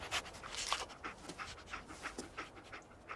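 A dog companion in the Fallout 4 video game pants quickly and rhythmically, quiet and close, with steady short breaths and no talking.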